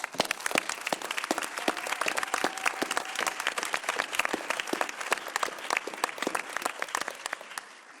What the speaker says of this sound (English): wanted to give you a round of applause